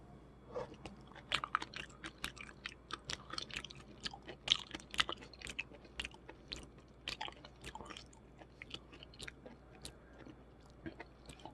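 Raw spoon worm (gaebul) chewed close to the mic, a steady run of wet, squishy, slightly crunchy bites and chews, quiet and without talk.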